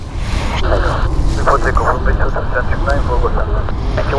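Aircraft engines rumble steadily at Stansted Airport, a loud low roar that runs through the whole stretch while people talk over it.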